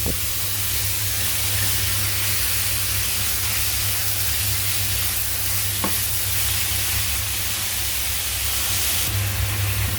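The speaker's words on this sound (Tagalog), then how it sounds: "So, igisa natin to." Ground pork and potatoes sautéing in a pan, a loud steady sizzle and hiss with occasional stirring scrapes, close and continuous with no talking.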